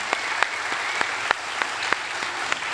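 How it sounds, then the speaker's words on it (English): Audience applause at a Friday Night Live event, with dense, sustained clapping from a crowd and a few sharper louder claps standing out, continuing evenly throughout the clip. "We got to give them a round of applause."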